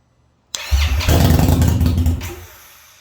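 Indian Scout Bobber motorcycle engine starting up close after a battery replacement and two weeks unused: a sharp starter click, a brief crank, then the engine catches into a loud rumbling idle that gradually settles.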